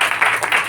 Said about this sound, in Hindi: ताली बजा दीजिए सिस्टर।